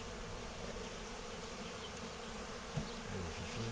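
Honeybees swarming around an open Dadant hive while its box is changed, a dense, continuous buzzing close by and fairly loud, with no voices.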